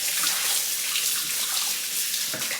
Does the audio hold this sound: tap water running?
yes